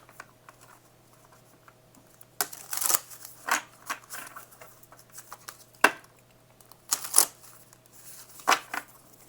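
Oversized tarot cards get shuffled by hand in several quick riffling bursts, crisp papery flutters and soft taps spaced a second or two apart in a quiet room, close and fairly faint.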